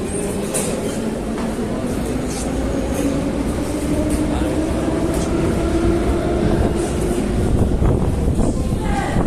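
A metro train in Tashkent rumbles steadily throughout, with a low droning hum and rail noise, loud and close, and faint voices murmuring underneath.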